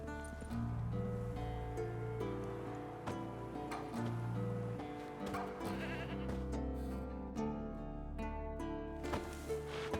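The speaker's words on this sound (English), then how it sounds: "Didn't tie itself to this stake. Supposed to be forktail bait." A goat tied to a stake as forktail bait in The Witcher 3 bleats repeatedly over game music, the calls rising now and then through the melody.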